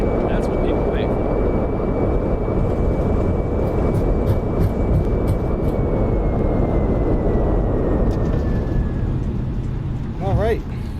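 An A320 airliner lands at Faro in Microsoft Flight Simulator: a loud, steady roar of engine and rolling rumble holds throughout, with a faint whistling tone gradually falling in pitch and a brief chirp near the end.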